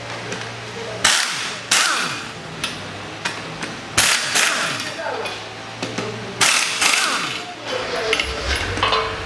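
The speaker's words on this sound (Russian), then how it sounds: "Откручиваем 4 болта." On a 2011 Toyota RAV4 front hub, a 17 mm socket on an impact tool loosens four bolts in sharp, loud rattling bursts, with clanks and metallic knocks between them, close up.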